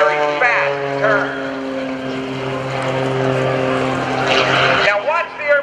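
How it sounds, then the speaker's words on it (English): An aerobatic propeller airplane performs at a naval air station airshow, its engine droning steadily and rising in pitch as it manoeuvres overhead, loud and continuous under an announcer's commentary. "Now watch the airplane roll to the left."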